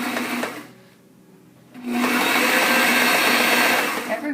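A sewing machine stitches box cushion fabric in a short burst, pauses for about a second, then runs again in a steady, loud, whirring drone.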